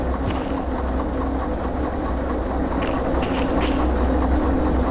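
A train rolling along rails in the Derail Valley simulation game, a steady loud rumble with faint rhythmic clicks throughout, no talking.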